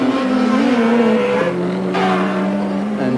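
Touring cars racing at Mallala in the 1989 Australian championship, a loud, continuous engine roar with shifting revs and overlapping cars on the track.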